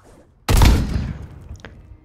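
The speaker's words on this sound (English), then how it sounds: "Okay, a trench shotgun. Granddaddy shotgun." A trench shotgun fires in the Roblox game Purgatory: one loud, close blast with a booming tail that fades over about a second, followed by a faint click.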